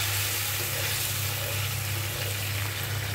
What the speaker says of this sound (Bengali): এ পর্যায়ে আমরা দিয়ে দিব ফুটন্ত গরম পানি